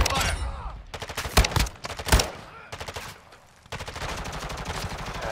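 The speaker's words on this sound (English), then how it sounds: "Taking effective fire." Gunfire in Call of Duty: Modern Warfare II, rapid automatic bursts and sharp single shots crackling close and loud, broken by short pauses, with a sustained volley at the end.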